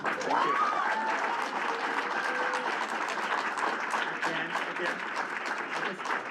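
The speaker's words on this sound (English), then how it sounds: "I just ask please that you hold the applause" Applause from a crowd at a school board business meeting, a dense steady wash of many hands clapping throughout, with murmured voices and a faint tone threading underneath.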